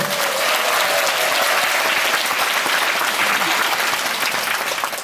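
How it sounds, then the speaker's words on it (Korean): Sustained audience applause fills a conference hall at a GSL company event, a dense, steady wash of clapping from many hands that holds loud and even throughout before easing slightly at the end. "그런 분들만 박수 한번 해주십시오."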